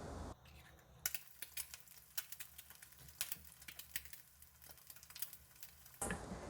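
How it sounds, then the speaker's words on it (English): An egg fries sunny side up in a frying pan for kimchi fried rice, giving a steady close sizzle with irregular crackles and pops throughout, ending in a louder burst. "fry the egg sunny side up style."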